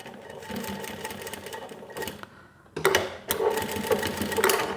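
Industrial 1903SX walking foot sewing machine stitching through eight layers of upholstery fabric, a close rapid mechanical chatter in bursts with a short pause midway, fairly quiet overall.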